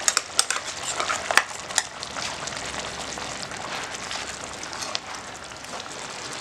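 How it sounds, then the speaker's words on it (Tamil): Coconut paste goes into a boiling Chettinad crab masala gravy in a pan, giving a steady wet bubbling and sizzle with a few sharp clinks of a spoon early on, close by with no talk. "நம்ம அரைச்சு வச்சிருக்கிற தேங்காய் பேஸ்ட் இதல சேர்த்துடலாங்க"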